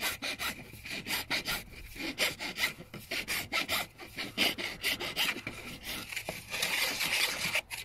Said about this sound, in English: I just finish it off with a file